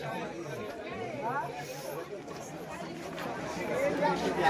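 Crowd chatter fills the Kalamb Urs fair grounds, a steady babble of many voices mixed with nearby talk, growing slightly louder toward the end.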